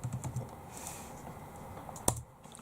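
Keys on a computer keyboard clack in quick, soft bursts of typing close to the microphone, ending with one sharper key press, and there is no talk.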